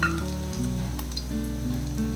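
Batter-coated egg manchurian pieces frying in hot oil give a steady, close sizzle with faint crackle throughout, and no voices.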